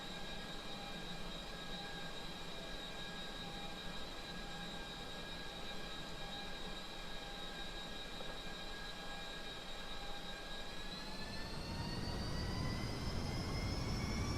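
An aircraft takes off from a runway, its engine tone holding steady before rising sharply as thrust builds toward the end, with no talking.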